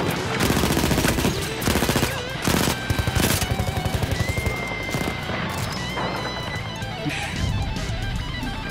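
Dense automatic gunfire and explosive crashes from the World War I shooter Battlefield 1 in online multiplayer, loud and continuous with rapid bursts and a few heavier impacts throughout.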